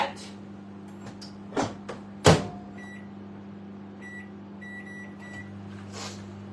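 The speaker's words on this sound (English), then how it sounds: "I've got a second microwave oven." A second microwave oven runs with a steady low hum, cooking bacon and onion in a Tupperware micro pressure cooker, with a few brief clunks and faint high beeps over the drone.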